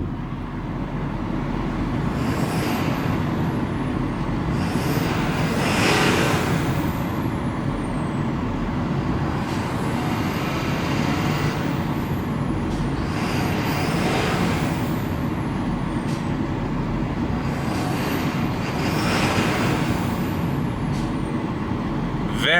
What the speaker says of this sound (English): You definitely hear that turbo spooling up.